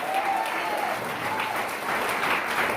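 A church congregation claps continuously in praise, a broad, even wash of applause through the whole stretch.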